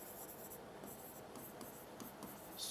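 A sentence being written on a board during a lesson, a faint, steady scratchy rubbing of strokes at close range with no voices.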